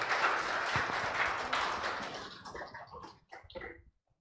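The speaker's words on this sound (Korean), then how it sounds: "우리 성가대의 격려의 박수 부탁드리겠습니다" A church congregation applauds the choir at a Sunday worship service, a steady wash of clapping that thins into a few scattered claps before stopping.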